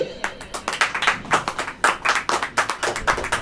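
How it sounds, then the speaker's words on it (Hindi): A church congregation claps during a sermon, distinct sharp claps falling in a quick, fairly regular rhythm from a group close by, loud and continuous without speech on top. "ताली बजाइए।"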